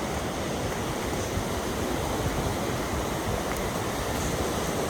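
The McKenzie River flowing near Sahalie and Koosah Falls: a constant, dense rushing roar of water, close and unbroken, with no voices.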